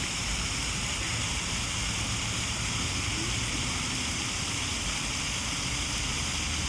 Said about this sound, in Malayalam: ഇവിടെ നമുക്കൊരു കൊച്ചു വാട്ടർ ഫൗണ്ടൻ കാണാൻ പറ്റും. നല്ല ഭംഗിയാണ്, അത് വെള്ളം വന്ന് വീഴുന്ന കാണാൻ.